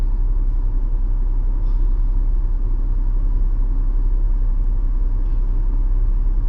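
Constant low rumbling of road traffic near a bridge in the woods, a dense unbroken drone of passing vehicles heard at steady loudness with no voices over it.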